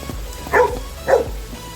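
A dog barks twice at an umbrella held over it in the rain, two short, sharp barks about half a second apart, close and loud over a soft patter of rain and faint music.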